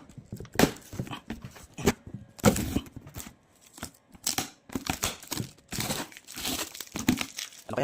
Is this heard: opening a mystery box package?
yes